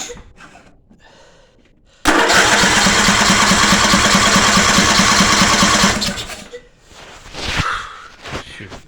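A 22 horsepower Briggs engine cranks and catches, running loud and steady with a rapid low throb for about four seconds before dying away, followed by faint rustling and handling noises.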